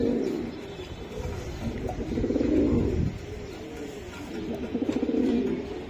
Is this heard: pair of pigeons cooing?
yes